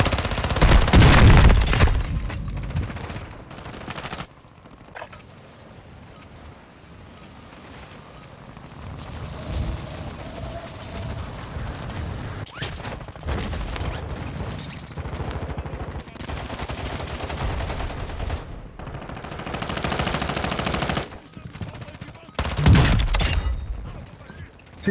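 Gunfire in Call of Duty: Modern Warfare II, loud bursts of shots at the start and end with scattered reports between, under a busy in-game mix of effects.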